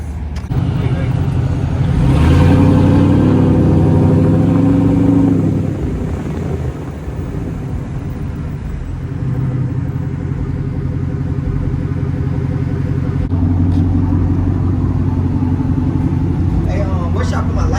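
A lifted 2021 Chevy Silverado on a 6-inch Rough Country lift with 35-inch tires on 24x12 wheels rumbles steadily as it drives, its engine swelling louder early on and then settling into a sustained drone, with people talking over it.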